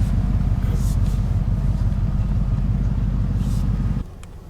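Two Jeeps pass on an off-road trail, a heavy low engine rumble holding loud and steady close by before dropping away abruptly near the end.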